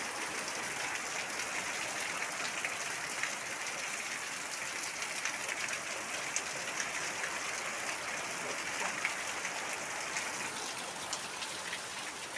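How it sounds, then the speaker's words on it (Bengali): Heavy rain pours down without letup, a dense, even hiss of falling water flooding a house veranda, heard nearby with no break throughout. "দেখো আমাদের এখানে প্রবল বেগে বৃষ্টি হচ্ছে"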